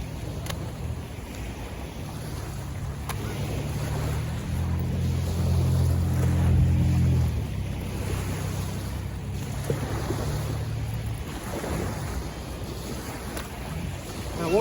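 Pacific Ocean waves washing onto the shore, a steady broadband wash with wind buffeting the microphone and a low rumble swelling in the middle before easing off, heard up close with no talking.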